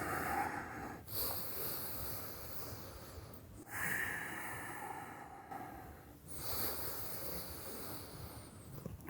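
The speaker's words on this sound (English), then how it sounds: "Feel the strength and length in your Ujjayi breath" Slow Ujjayi breathing during a yoga flow, with long hissing breaths drawn through the throat, close and soft, three or four cycles with brief pauses between.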